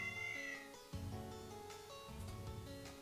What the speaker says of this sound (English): I think that cat's been following me from the palace.